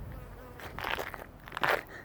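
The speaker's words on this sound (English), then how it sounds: "Had a bee attack me, sorry." A bee buzzes close around a person standing beside a van with tinted windows and a roof rack outdoors, its drone swelling loud in two brief passes near the microphone with no talk.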